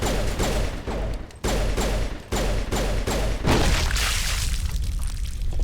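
Mass Effect shredder-round gunfire blasting a Thorian neural node, loud sharp bursts repeating in quick rhythmic volleys with brief gaps, close and dominant, ending in a denser roaring stretch.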